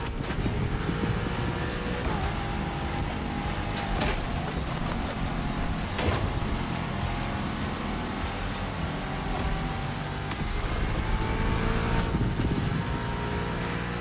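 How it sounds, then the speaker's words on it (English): A supercharged V8 car engine in The Crew Motorfest drones continuously at high revs, a dense, steady roar with occasional sharper gear-shift bursts, heard alone without talk. "Now you can let the supercharged V8 do the talking."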